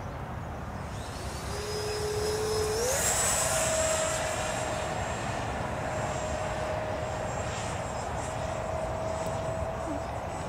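A model Avro Vulcan jet aircraft makes a flying pass with gear down and a point of flap, its steady engine whine rising in pitch partway through and holding loud and near throughout.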